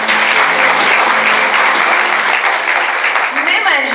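Dense, sustained audience applause honoring a fashion designer at a Kyiv sewing and hairdressing college show, steady and loud throughout with voices mixed into the crowd noise.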